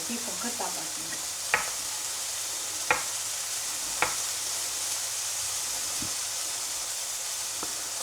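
Mushrooms fry in a pan with a steady soft sizzle and hiss, punctuated by a few sharp clicks of a utensil against the pan.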